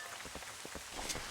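Steady rain falls in Zelda: Twilight Princess HD, an even wash of patter with faint scattered drops throughout, with no talking.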